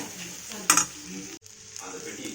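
Masala frying in a pan with a steady close sizzle, a sharp metallic scrape of stirring partway through and a brief drop before the sizzle resumes.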